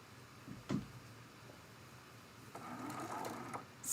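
A sewing machine stitches a seam joining Dresden plate quilt block pieces cut from charm packs, starting with a locking stitch; a brief burst of stitching, then a longer steady mechanical whir that stays faint and close, with no talking.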